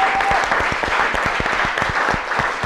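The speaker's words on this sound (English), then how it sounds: "Big round of applause as well." An audience at a charity cooking competition applauds in a steady, moderately close patter of claps, with individual sharp hand claps standing out, and no voices.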